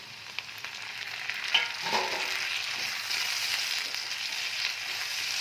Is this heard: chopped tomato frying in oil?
yes